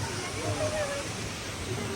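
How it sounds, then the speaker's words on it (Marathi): A waterfall near the Ekvira temple hillside pours down with a steady, faint rushing hiss, heard from some distance while people chat nearby. "धबधबा"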